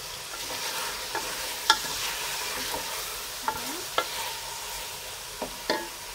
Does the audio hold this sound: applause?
no